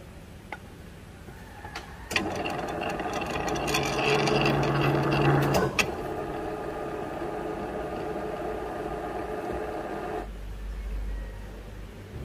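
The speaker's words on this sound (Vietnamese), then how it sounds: "bên này mình sẽ khoan tạo ren M6 để siết cố định nối con lăn" A drill bores a hole and then taps an M6 thread in a steady rest part, giving a steady machine hum with a louder grinding, rattling stretch in the middle that fades back to a lower whir.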